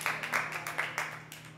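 Small open mic audience clapping, a thin scattering of claps from a few people, brief and fairly quiet.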